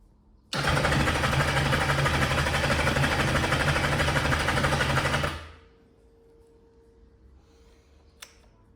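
Kawasaki Zephyr 750 motorcycle engine cranking with choke on: a loud, steady whirring starter drone runs for about five seconds without catching, then stops, leaving a faint low hum and a single click.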